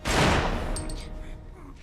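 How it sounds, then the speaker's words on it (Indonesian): A single sharp gunshot bursts out at the start, loud and close, then rings and decays into a fading echo. "Sebelum Jim melepaskan tembakan kedua, Samidi memohon ampun"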